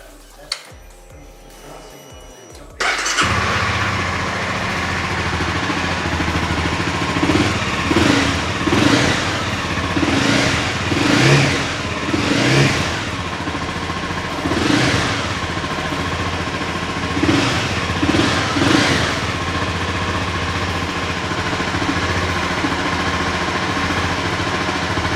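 A Honda CBR300 motorcycle with 4,856 miles starts with a short crank and catches, then settles into a steady idle, blipped by several revs that rise and fall, close and loud.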